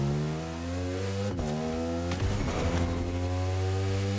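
A motorbike engine in a video game, loud and close, revving with harmonic pitch that dips through gear changes around the middle, then climbs again as the bike accelerates.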